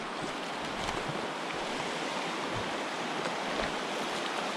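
Rushing water of river rapids during an after-work trout fishing session, a steady broadband roar that stays loud and even throughout, with no talking.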